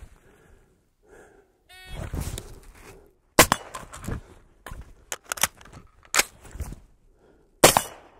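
Sharp gunshots hit steel targets about 35 yards away, each crack followed by a metallic clang, fired in irregular bursts with a quiet stretch at the start.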